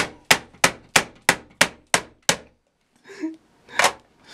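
A hammer strikes a so-called indestructible phone eight times in a fast, even rhythm, each a sharp, loud, close clang, followed by a pause, muffled scuffling and one last heavy hit.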